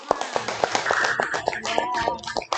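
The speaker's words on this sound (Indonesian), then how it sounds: "Oke, tepuk tangan untuk Rahma." A classroom of students claps for a classmate, a lively burst of uneven overlapping hand claps with some voices mixed in, close and fairly loud.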